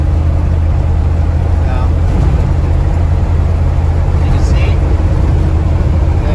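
A Dodge A108 van drives down the street, its engine droning steadily and loud from inside the cab with constant road rumble, while the driver talks over it.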